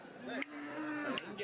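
Cows moo at a Tamil Nadu cattle market where dairy cows are for sale: a drawn-out, tonal moo rises and falls, followed by another starting call, all over steady crowd murmur and faint background voices.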